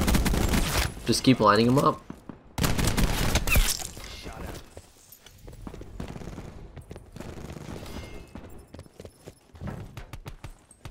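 Gunfire in the video game Black Ops 4, Gun Game mode on PC: a loud burst of rapid shots opens, then sporadic, more distant shots and clatter follow while someone talks.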